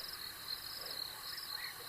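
Crickets chirr in a dense continuous trill around a bush water hole at night, steady and fairly faint, with a soft low wash beneath and no voices.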